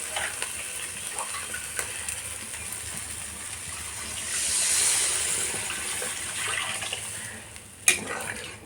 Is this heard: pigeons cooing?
no